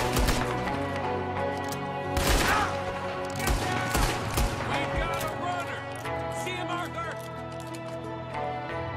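Gunfire in Red Dead Redemption 2: a loud, dense fusillade of rapid shots and sharp cracks at close range, layered with shouting voices and game music.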